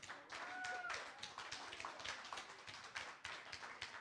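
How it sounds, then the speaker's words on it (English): Live magic show audience in Atlanta applauding after a trick, a broad wash of clapping at moderate distance, fairly faint, with a few voices and a brief whistle mixed in. "I appreciate the applause."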